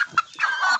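A young rooster gives a short, close clucking call, a brief chirp followed by a longer strained note lasting under a second.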